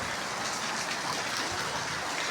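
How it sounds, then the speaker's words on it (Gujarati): A village downpour falls as an even, steady hiss that holds without a break, moderately loud and close, with no voices over it. "અત્યારે વરસાદ આવી ગયો"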